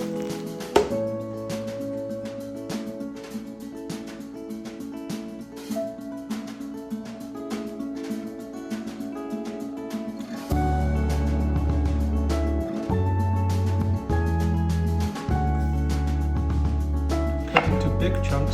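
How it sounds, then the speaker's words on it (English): A knife chops tomatoes into big chunks on a cutting board, a series of sharp, evenly spaced knocks heard alone with background music. "Cut into big chunks."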